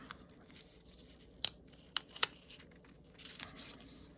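Card paper for a handmade card is trimmed with a few quiet snips, three sharp cuts close together mid-clip over a faint room hush, with a soft rustle afterward; no talking.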